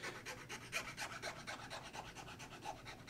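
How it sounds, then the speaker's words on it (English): A metal file scrapes the back of a bassoon reed against a cutting block in quick, even strokes, a soft rhythmic rasping heard close and quiet with no talk. "I'm just gonna set the file down like this and scrape that way with the file"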